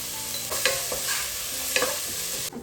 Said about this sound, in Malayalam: കുറച്ച് നല്ല ബ്രൗൺ കളറാകുന്നവരെ നമുക്കിത് വഴറ്റാം